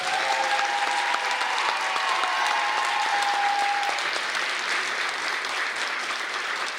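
Sustained audience applause fills a fashion show venue, dense steady clapping from a large crowd at even loudness throughout, with a brief tonal musical or microphone ring in the first few seconds.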